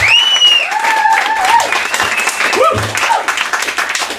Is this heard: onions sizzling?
no